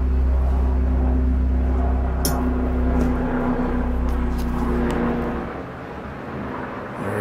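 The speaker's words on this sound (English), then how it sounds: "There's a helicopter flying overhead." A helicopter flies overhead, a steady low engine drone and rotor hum filling the air, holding loud before fading slightly near the end.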